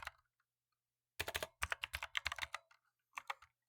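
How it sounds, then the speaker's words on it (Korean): Data typed into a spreadsheet on a computer keyboard: a few isolated taps, then rapid bursts of clattering keystrokes in uneven runs with short pauses, close and clear with no talking. "기본 작업 1번 시트는 주어진 대로 자료를 그대로 타이핑해서 입력하시면 됩니다."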